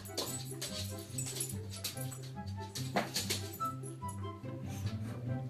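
A small puppy in a clip played from a pet-rating stream, with dog whimpers and yips mixed over steady background music, moderately loud and continuous.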